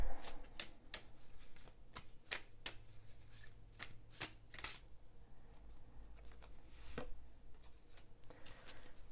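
Tarot cards shuffled by hand in a quiet room, a series of sharp riffling snaps and soft flutters coming in irregular bursts, close and fairly faint.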